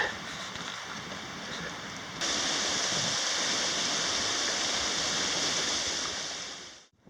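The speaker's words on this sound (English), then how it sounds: "Canyon Creek is flowing pretty nicely still." Continuous rushing of Canyon Creek in Central Oregon, steady and full, getting louder partway through, then cutting off abruptly near the end.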